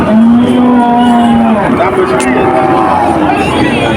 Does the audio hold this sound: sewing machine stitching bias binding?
no